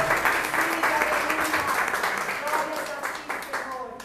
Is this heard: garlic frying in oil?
no